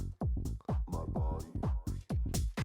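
Tech house track with its high end cut too hard around 8 to 10 kHz, so it plays dull and muffled: a steady, loud four-on-the-floor kick and bass groove with vocal-like melodic stabs, no talking over it.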